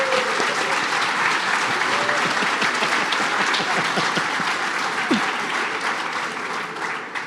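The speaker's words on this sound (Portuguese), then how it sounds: "Aplaudiram, que legal." An audience at an entrepreneurship talk bursting into dense, sustained applause, a continuous wash of many hands clapping that holds steady and then fades slightly toward the end, with a faint voice or two underneath.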